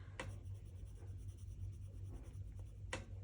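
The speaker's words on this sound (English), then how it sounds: "Let me get a pencil and fix it." A pencil scratches quietly across paper in a faint, continuous scribble, with two brief sharp taps against a low steady hum.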